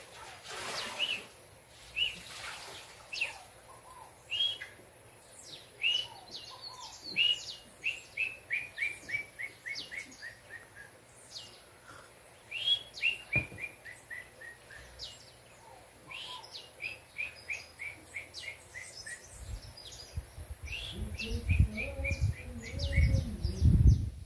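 Red-legged seriemas call at a farm: repeated series of loud, yelping notes that speed up and fall in pitch, several bouts in a row at moderate distance, then rumbling handling noise near the end.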